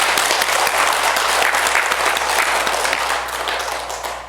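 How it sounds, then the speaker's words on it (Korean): Audience applause at a church health seminar: steady, dense clapping from a room full of people, loud and sustained throughout and tapering slightly toward the end, with no speech over it. "자, 박수 한번."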